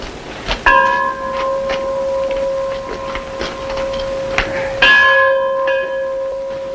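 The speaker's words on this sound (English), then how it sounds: "Mighty handsome bell" A handsome mission church bell rings out in clear, resonant strikes, several tolls with long ringing sustain that overlap and fade, loud and close with no talking.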